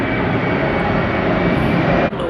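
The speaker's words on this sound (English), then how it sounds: "there's so many planes going up" Airplanes flying overhead, a loud continuous engine roar that holds steady for a couple of seconds and then drops off suddenly near the end, with no speech.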